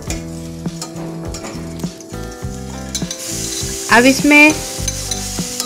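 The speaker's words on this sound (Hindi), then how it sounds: "चॉप प्याज डाल दें। 1 मिनट तक प्याज को सोते करें।" Chopped onion sautés in ghee or butter with a steady, bright sizzle and some stirring, and a short spoken phrase sits over the frying.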